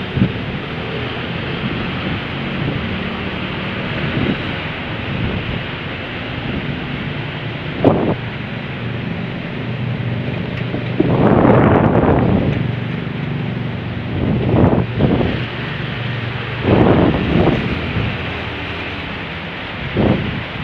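Heavy rain pours over Makassar city during the fasting month, a dense, steady roaring hiss with louder swells and occasional passing rumbles, no voices.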